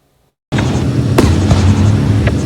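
Fireworks exploding: after a brief silence a loud burst erupts into sustained rumbling and crackling, with a few sharp pops standing out.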